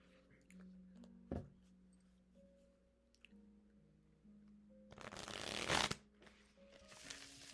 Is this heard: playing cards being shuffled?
yes